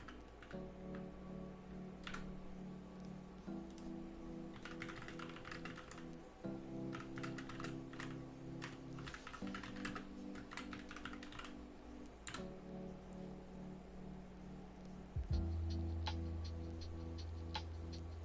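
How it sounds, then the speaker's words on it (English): Fingers type on a computer keyboard in quick bursts of crisp key clicks with short pauses between, close and fairly quiet over a low steady hum. "So I typed in the best food spots in Portland."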